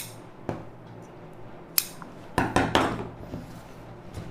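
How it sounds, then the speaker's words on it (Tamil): Scissors cut through blouse lining fabric, making a few separate crisp snips and then a brief quick cluster of cuts, close and fairly quiet, with no one talking. "பட்டி பீஸ் கட் பண்ணியாச்சு"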